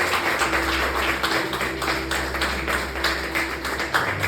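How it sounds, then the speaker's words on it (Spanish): Church congregation giving loud applause during a Spanish-language service: dense, continuous clapping from many people, sustained and fairly close over a low background hum. "vamos a darle un fuerte aplauso al Señor"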